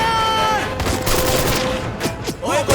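Movie gunfire crackles in quick bursts amid a chase scene, sharp repeated shots mixed with music and a brief voice, loud and dense with a few isolated cracks near the end.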